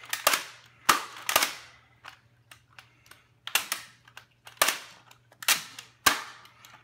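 A BOOMco Crank Force toy blaster fires in single-fire mode, giving about eight sharp, loud snapping shots at irregular intervals with softer clicks of handling in between, no talking.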